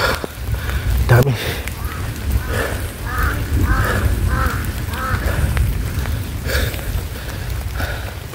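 A series of crow caws repeats in a steady rhythm, fairly close, over a low rumbling background and some talking.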